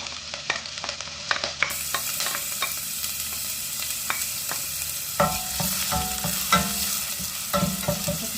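Chopped onion sizzles and fries in a hot pan while a utensil scrapes and stirs it in repeated sharp strokes, loud and close, with no voices.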